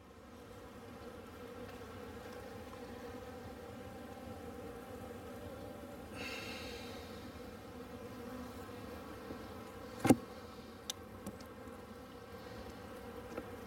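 Honeybees in an open hive colony short on brood and honey after a three-week spring cold spell hum steadily at close range, with one sharp knock near the end and a few faint ticks.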